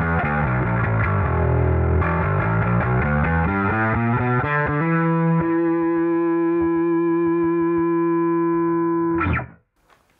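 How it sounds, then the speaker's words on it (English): An electric guitar runs through a Suncoast Analog HD1 distortion pedal, a quick run of saturated, buzzing notes that settles into a long sustained distorted chord, then cuts off abruptly. "the screaming HD1 distortion"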